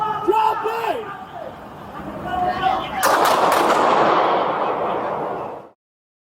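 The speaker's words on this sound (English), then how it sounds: "As he attempted to move toward the handgun, an officer discharged a 40mm less lethal foam projectile at Vega, which struck him" Police officer fires a 40mm less-lethal foam projectile during an armed standoff: a sharp loud crack partway through, leaving a burst of broad noise that lingers, after earlier shouting voices.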